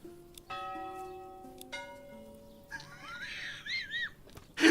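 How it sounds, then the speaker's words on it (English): A church bell in the medieval city-building game Manor Lords tolls twice with long ringing decay, followed by a fluttering, chirpy swirl and a brief sharp tick at the end. "Change the church bell sound."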